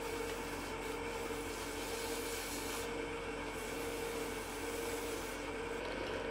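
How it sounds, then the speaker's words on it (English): Sandpaper, 150 grit, rubbing against a wooden holiday bell ornament spinning on a woodturning lathe, a steady close abrasive hiss over the lathe's continuous hum with no pauses. "we're going to go ahead and hit it with some sandpaper real quick"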